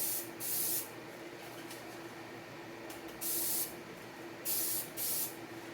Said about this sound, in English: you don't want to be sitting and spraying in one spot for too long because you will get runs